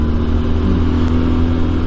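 A Benelli TRK 502X motorcycle engine revs up through its range, giving a loud, steady, close drone with no talking.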